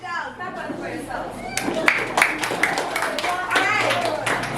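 Children in a classroom clap for themselves, a burst of scattered, uneven claps with some chatter mixed in.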